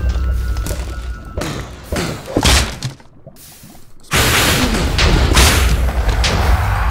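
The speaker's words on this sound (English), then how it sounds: "Wait for it to explode and then we'll be able to kill it." A Wither boss blowing up in modded Minecraft (FTB Infinity), with heavy booming thuds and crashes, a short near-silent gap, then a loud sustained roar of noise that carries through to the end.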